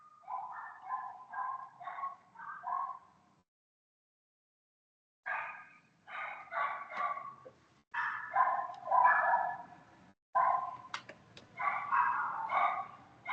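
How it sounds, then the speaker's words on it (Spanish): A dog barks in repeated bursts of sharp, fairly close barks, stopping for a couple of seconds before resuming in rapid clusters, with no talking. "Amarren el perro."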